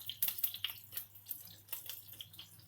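Hot cooking oil spatters and crackles where water hits it, irregular sharp pops and sizzles bursting close by.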